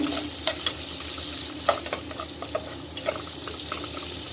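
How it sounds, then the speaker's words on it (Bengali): Chopped onions sizzle and fry in a hot pan while browning, with soft scraping stirs and small pops over a steady hiss. "পেঁয়াজটা ভালো করে ভেজে একটু ব্রাউন করে নিচ্ছি"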